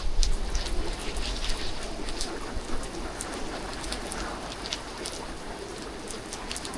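Steady rain hisses and patters across a road at night during a storm in Innisfail, Australia, while gusty wind roars underneath, a continuous wash of noise with scattered drips.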